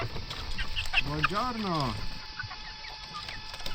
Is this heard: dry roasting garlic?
no